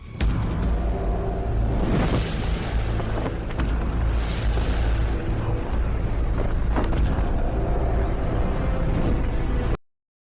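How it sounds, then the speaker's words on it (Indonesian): Strong wind roars steadily for about ten seconds in a dramatic scene at an ancient tomb, a loud, dense rush with gusting surges and buffeting that stops abruptly at the end. "Angin ini ada apa?"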